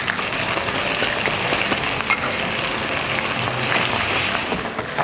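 Crushed garlic and shallots fry slowly in hot oil, giving a steady, dense crackling sizzle that stays even from start to finish.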